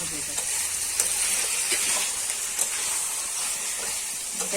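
Mutton kosha sizzles and fries in red oil in a pan, a steady close hiss broken by soft scrapes as it is stirred.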